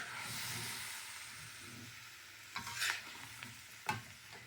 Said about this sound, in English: Trying to get everything really well stirred up from the bottom.